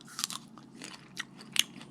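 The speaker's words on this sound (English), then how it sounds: "Crunch. It's got crunch." Crisp bites into a crunchy honey jar jujube fruit, several sharp crunches in quick succession at close range, with quiet chewing between them.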